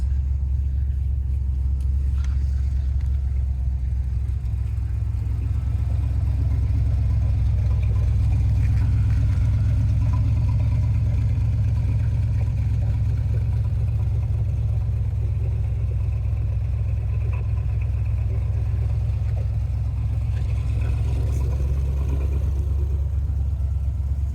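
A 1972 DeTomaso Pantera with a fuel-injected 351 engine rumbles steadily at a loud, even idle for the whole stretch, with a deep low drone and no talk.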